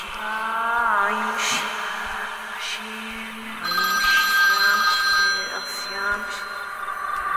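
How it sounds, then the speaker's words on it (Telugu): A switched-off mobile phone rings in a Telugu horror film scene, a repeating electronic ringtone heard clearly and up close, with voices around it. "ఆఫ్ అయిన ఫోన్ మళ్ళీ రింగ్ అవుతుందేంటి?"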